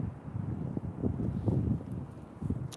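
Steady outdoor wind buffets the microphone in a low continuous rumble with gusty swells and no talk over it.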